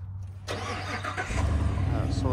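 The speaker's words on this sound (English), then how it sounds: "You start the truck." A truck engine cranks and catches at a ranch, then settles into a deep, steady idle close by, with a person talking over the start.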